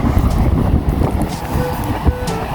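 Strong wind buffets the microphone in a steady low roar at a muddy, sandy beach shore, with faint surf or water movement beneath it.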